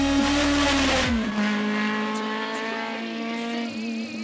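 A race car on a slippery wet hill climb road at Morne Raquette sweeps past with a falling engine note, the roar fading into a steady drone as it pulls away, loud and without talk.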